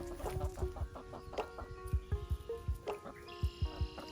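Chickens cluck nearby in short, uneven bursts, several birds chattering over a low patter of scratching and movement.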